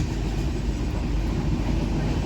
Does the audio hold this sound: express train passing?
yes